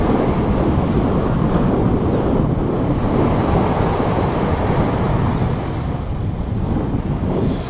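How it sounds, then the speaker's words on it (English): Strong wind gusts roar over the sea on Great Yarmouth beach, mixing with steady crashing surf and heavy microphone buffeting, loud and continuous throughout with no voices. "the wind has picked up"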